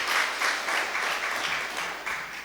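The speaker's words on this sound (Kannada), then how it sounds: "ನನ್ನ ಪ್ರಶ್ನೆ ಕರೆಕ್ಟ್ ಇತ್ತರೆ ಚಪ್ಪಾಳೆ ಬರಲಿ" An audience at a speaking event breaks into sustained applause, many hands clapping together in a dense, steady patter that rises and falls slightly over a couple of seconds, with no voices over it.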